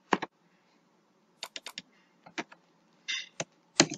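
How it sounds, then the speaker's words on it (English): Someone types on a computer keyboard in short, scattered bursts of crisp key clicks with pauses between them, close and quiet in an otherwise silent room. "So we type"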